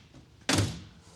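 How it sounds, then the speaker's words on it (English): The door of a 1938 Packard Club Coupe shuts with a single solid thunk, close and fairly loud, after a quiet moment, its low thud fading quickly. "Just the minimum of pressure shuts that door"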